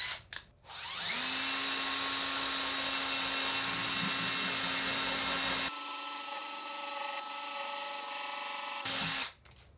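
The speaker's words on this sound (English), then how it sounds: "Let's see if we can drill some holes." A power drill with dull bits whines at high speed for several seconds, its pitch shifting partway through as it bores into an upright wooden 2x4, then stops.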